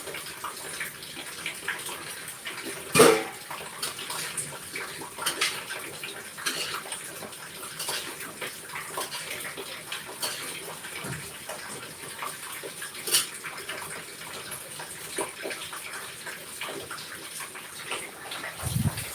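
Heavy rain pours with floodwater rushing outside a home in the Philippines, a steady broad wash of water noise throughout with occasional louder splashes and thumps.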